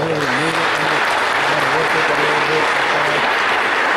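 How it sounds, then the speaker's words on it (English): Applause at a steak fry honoring Captain David Van Camp, with a voice speaking over the steady clapping throughout. "one more round of applause for that"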